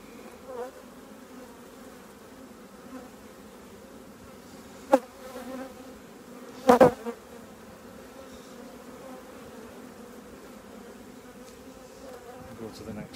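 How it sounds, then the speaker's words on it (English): Honeybees in an opened hive of a recently merged colony, some dusted with yellow pollen, hum in a steady low drone throughout, with a couple of brief louder bumps from handling frames. "bees there, very covered in yellow dust there"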